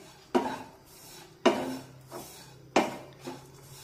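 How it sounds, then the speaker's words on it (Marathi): A spatula scrapes a spice mix around a pan for stuffed chillies (bharli mirchi). Three distinct scraping strokes come about a second apart, close and clear, with no talking. "आता हे सर्व मसाले आणखीन 2 मिनिटे मी चांगले परतून घेते"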